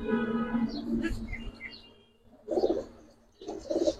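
Giribaz pigeons in a loft coo in two low, throaty bursts after a stretch of quieter background murmur, heard fairly close.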